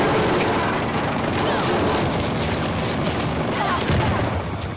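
Helicopter gunfire in Uncharted: The Lost Legacy, a dense continuous barrage of rapid shots and impacts, loud and close throughout, with a voice speaking over the battle noise.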